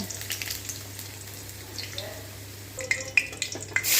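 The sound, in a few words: duck meat frying in hot oil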